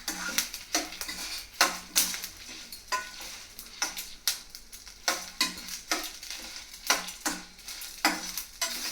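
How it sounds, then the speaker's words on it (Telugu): Mango pieces frying in a pan while a spoon stirs them, giving sharp rhythmic scraping and clinks of utensil on metal about once a second over a low sizzle, close and clear. "మ్యాంగో ముక్కలు కూడా వేసేసి ఒకసారి వేయించేసుకోవాలి."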